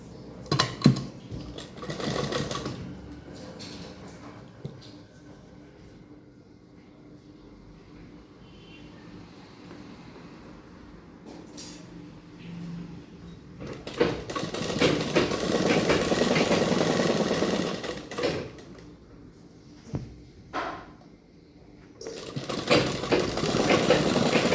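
A sewing machine stitching cloth for a kachali blouse whirs in steady sustained runs, loudest in two long bursts later on, with quieter handling and pauses between.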